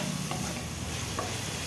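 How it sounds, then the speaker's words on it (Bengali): Peas, chopped carrots and capsicum fry in a pan with a steady, dense hiss throughout, broken by a couple of faint stirring knocks, and no voices. "এগুলোকে একটু একটু করে ভেজে নিব লাল করে।"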